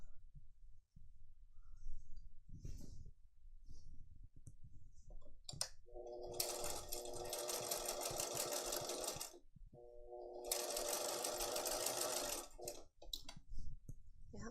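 Sewing machine running long gathering stitches with tension turned all the way up and stitch length at maximum, two sustained bursts of rapid rhythmic mechanical whirring separated by a pause, with faint handling clicks before.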